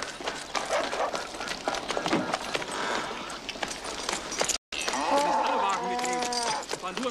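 Horses and wagons move off, with hooves clopping and rumbling at a fairly close distance under loud shouted voices. A brief break in the sound is followed by more calling.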